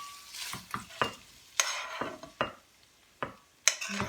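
Leftover food and beaten egg stirred together in a pan, with a soft sizzle under a series of distinct scrapes and taps from the utensil, one every half second or so.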